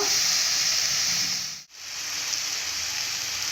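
Vegetables for a Maggi masala dish are stirred in a hot pan, giving a steady, close, bright sizzling hiss with one brief near-silent dip midway before the frying resumes.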